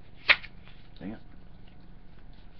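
Playing cards for a Magic card game are shuffled in a couple of quick riffling bursts, close and fairly quiet, with soft handling noise between them.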